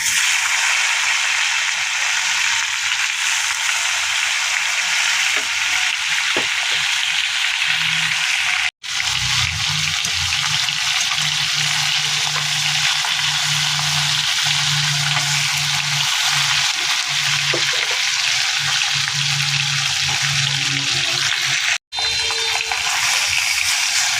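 Japanese puti fish sizzling as it fries in hot oil in a Bengali kitchen, a steady loud crackle throughout with occasional clinks of a utensil lifting pieces out, no talking.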